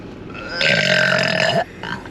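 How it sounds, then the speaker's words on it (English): A person burps on purpose for the camera: one long, loud, throaty belch lasting about a second, close up, followed by a short quieter tail. "Should I burp for the camera?"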